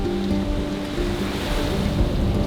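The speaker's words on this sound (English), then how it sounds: "Well, the wind is picking up a lot." Wind and waves roll steadily around a sailboat at sea, with an autopilot steering as the breeze picks up: a continuous, fairly loud rushing wash with no clear breaks and no voices.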